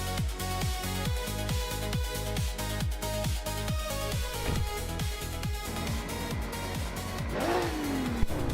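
Race cars roar around Road Atlanta Short Track in a racing video game, engines revving up and down in rapid repeated gear changes, loud and close, ending with a rising whine and a brief tire squeal.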